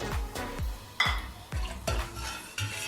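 Repeated scraping and clinking strokes of a spoon stirring salt, bay leaves and small cardamom pods in a metal pot, about five distinct rhythmic scrapes, close and moderately loud with no talking.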